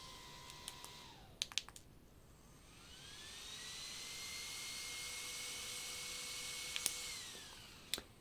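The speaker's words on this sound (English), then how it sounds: "you can clearly tell that 2 fans is quieter than 3." Cooling fans of an Imalent SR16 flashlight spin up to a steady, rising whine with an airy whoosh, held close and even for several seconds before winding down, with a few button clicks around it.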